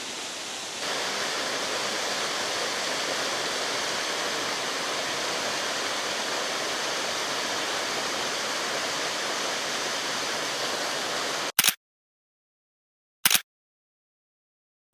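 Steady rushing roar of Moorabool Falls in Australia, a broad continuous wash of falling water heard close for about eleven seconds before cutting off, followed by two brief bursts.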